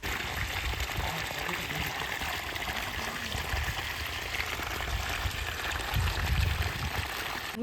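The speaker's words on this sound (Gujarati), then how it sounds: "પછી એટલું સરસ પાણી જતું હતું" Water flows in a steady, soft rushing trickle at moderate distance, with low murmuring in the background.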